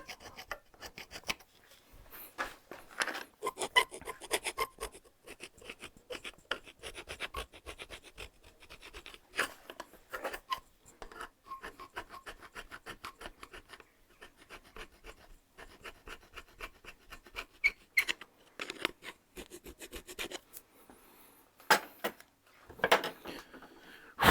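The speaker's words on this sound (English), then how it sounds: "I'm just making sure I get all the old gasket off just now." Old gasket material being scraped off a 1973 Bond Bug carburettor: repeated short, dry rasping strokes in an irregular rhythm, close and fairly quiet, with no talking.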